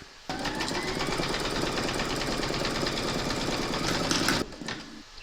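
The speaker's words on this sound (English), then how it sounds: "Pop your hoop into your machine and stitch round number 2 to secure it." An embroidery sewing machine stitches a sunflower coaster in its hoop, a steady rapid mechanical whirr with a fast stitching pulse that starts abruptly, runs for about four seconds and then stops.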